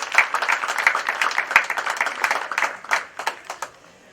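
A small audience claps for arriving visitors at a gathering, uneven individual hand claps forming a modest, close round of applause that tapers off.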